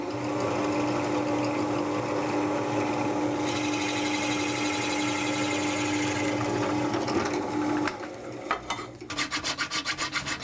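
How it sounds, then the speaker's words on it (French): Drilling out a core to form an air inlet, a steady rasping, rubbing grind that runs continuously and loud for about eight seconds, then breaks into shorter uneven strokes near the end, with no talk. "Le noyau, il va falloir le percer encore pour faire l'arrivée d'air."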